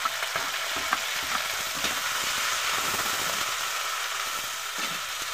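Onions and other aromatics sautéing in a hot pan, a steady loud sizzle that runs the whole time, with occasional scrapes and stirring clatter as the ingredients are moved around.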